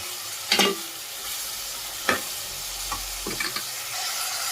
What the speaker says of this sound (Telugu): ఆయిల్ హీట్ అయిన తర్వాత ఆనియన్ అయితే వేసుకుని అందులో కొంచెం పసుపు కొంచెం సాల్ట్ అయితే వేసుకుంటే తొందరగా వేగిపోతాయి